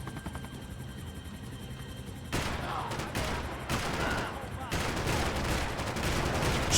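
Gunfire in Max Payne 3, with repeated bursts of shots and rattling action that grow louder partway through, under excited player talk.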